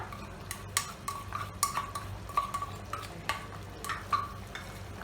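Shahi paneer gravy stirred in a pan with a spoon, giving repeated scraping clinks and light metallic knocks at an uneven rhythm over a soft background simmer, close and moderately loud.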